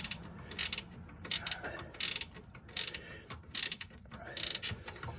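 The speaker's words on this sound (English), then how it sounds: "The front one you can get quite snug here with your ratchet wrench." A ratchet wrench tightens a car's sway bar link, giving short bursts of quick metallic clicking, about six separate strokes spread over five seconds, fairly quiet and close, with faint background noise between them.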